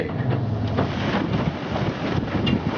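Strong wind buffets the microphone in a steady, rumbling roar, with gusts rising and falling over a broadband rush; no voices.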